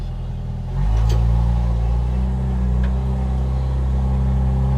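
A Jeep YJ Wrangler with a loud, unmuffled exhaust chugs uphill off-road, its engine rising to a deep, steady rumble and holding there, heard close from inside the vehicle.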